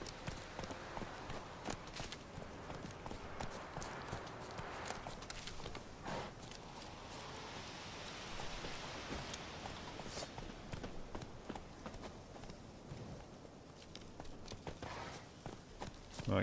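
Roach the horse's hooves clip-clop at a steady walking rhythm in Witcher 3, close and continuous over a busy background of game ambience.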